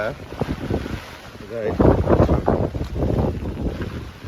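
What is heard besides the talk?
wind blowing during a rainy street walk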